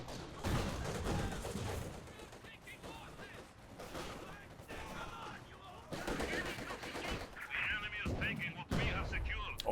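An artillery barrage mixed with small-arms and machine-gun fire in the WWII strategy game Company of Heroes 2: repeated thumping blasts and crackling bursts that rise and fall over several seconds at moderate loudness.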